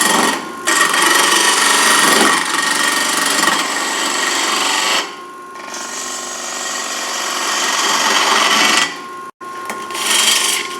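A woodturning lathe tool cuts a taper on a split-turned goblet, giving a steady, loud scraping hiss that runs in long sustained passes with short pauses between cuts and no talking.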